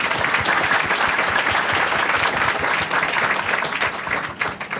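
An audience at a Giffarine business event claps to welcome a guest executive, a full, steady round of applause from many people that thins slightly near the end of its five seconds.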